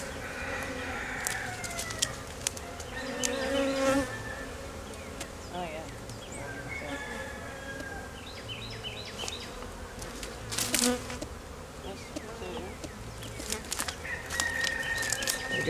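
A dense honey bee swarm buzzing on a hive frame during a hive inspection, a continuous close hum with individual bees whining past and brief wing flutters, steady throughout with a little faint background noise.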